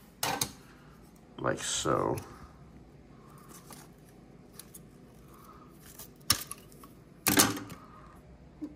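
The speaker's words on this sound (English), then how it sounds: "I'm gonna cut these guys off so I don't have to put these whole twigs in." A few crisp snips as twigs holding moth cocoons are cut into small pieces, spaced irregularly with quiet gaps between them, close by, and a person speaks briefly.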